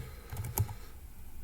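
Faint, soft keystrokes on a computer keyboard, a brief cluster of light clicks in a quiet room, then stillness.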